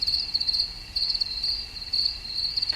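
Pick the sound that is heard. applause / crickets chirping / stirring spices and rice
crickets chirping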